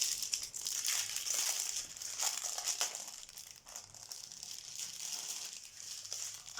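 A packet of beads is torn and crinkled open in a steady, continuous rustle of thin plastic, close to the microphone and fairly quiet.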